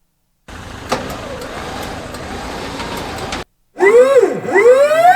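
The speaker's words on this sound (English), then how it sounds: "So we have a sound of the machine, which is sort of a hydraulic sound" A hydraulic machine starting sound effect: a rumbling mechanical hum for a few seconds, a brief gap, then a loud whining, pitch-swooping hydraulic surge, close and clear with no speech.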